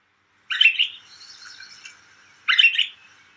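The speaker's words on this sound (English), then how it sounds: "The pine grosbeaks have a whistle." Pine grosbeak giving a fluty whistled call, two short bright bursts about two seconds apart with a softer trailing warble between them, close and clear.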